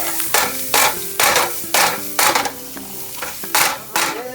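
Butter, bacon and onion cooking in a pan, with repeated loud scraping and stirring strokes in an irregular rhythm over a soft background sizzle, close up with no talking.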